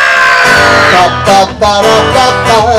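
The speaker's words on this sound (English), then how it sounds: "Everybody scream." A crowd screams together at a Halloween show at a zoo, a loud sustained group shout with overlapping voices and whoops that rises, dips briefly and surges again.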